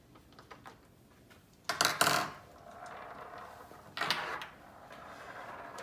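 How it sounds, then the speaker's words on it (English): Bolts come out of a Corbeau Evo X fixed-back seat: faint metallic clicks, then two louder clattering scrapes of hardware and tools nearby, with quiet handling noise in between and no speech. "remove the 4 bolts that will hold the base to the seat"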